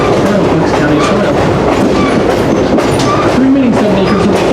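A New Hope and Ivyland Railroad passenger train rolls along the tracks, heard from inside as a loud, constant rumble with rhythmic clickety-clack from the wheels and an occasional faint squeal.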